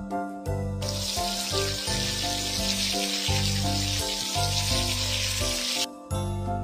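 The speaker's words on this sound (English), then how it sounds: "Rinse the soap." Water runs continuously to rinse soap off a face in a makeup salon video game, a broad splashing wash that starts and stops sharply over light looping background music.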